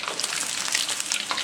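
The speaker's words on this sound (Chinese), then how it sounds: "油温升高啊，再给它复炸一遍，炸个10秒钟就捞出来" Eggs crackle and sizzle as they are fried a second time in hot oil, a dense, steady bubbling hiss close up with no voices.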